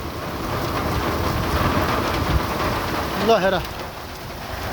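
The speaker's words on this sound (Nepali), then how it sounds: "ल असिना पानी हुँदैछ त अहिले त।" A heavy hail and rain storm pours down in a steady, dense hiss with low thunder rumbling underneath; a voice calls out briefly partway through.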